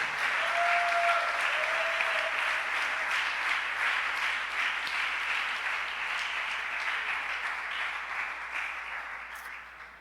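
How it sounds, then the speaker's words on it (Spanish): A church congregation gives sustained loud applause, with dense clapping that fills the room and tapers slightly over ten seconds. "Sí, déle ese aplauso fuerte a Él."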